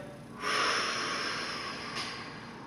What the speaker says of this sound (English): Take a deep breath in, exhale